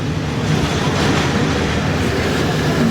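A train departs, rumbling steadily close by, a continuous low mechanical roar of rolling cars with no voices.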